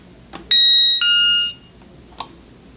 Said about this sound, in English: you should hear a chime just like that